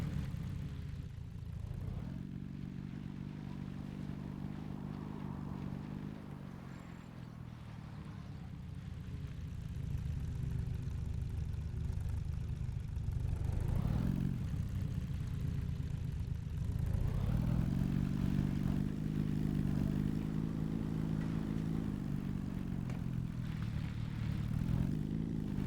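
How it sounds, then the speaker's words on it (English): A vehicle engine runs steadily in the Scrap Mechanic video game, a continuous mid-pitched drone that swells and rises in pitch a few times as it revs, with no talking over it. "Man, this engine sounds really nice."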